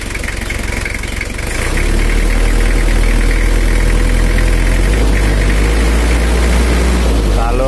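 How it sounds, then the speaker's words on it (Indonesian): A Toyota Kijang diesel engine with a rough, knocking running fault is revved up from idle, its steady loud drone rising after a moment and holding strong throughout, close to the source. "Kalau Toyota itu digas besar itu suara kemelitiknya hilang, berubah menjadi suara halus."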